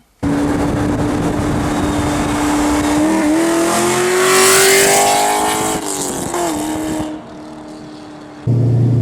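A powerful V8 engine in a modified 500 WHP 2014 Chevrolet Camaro 2SS revs hard and accelerates, its pitch climbing through the gears with a loud roar, then easing briefly before surging again.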